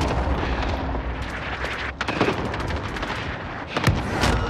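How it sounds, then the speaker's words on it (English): A cluster strike in the video game Call of Duty: Warzone, sounding as a loud, near-continuous barrage of heavy blasts and rumbling booms with sharper cracks rising through it. No voices can be made out. "Enemy cluster strike incoming."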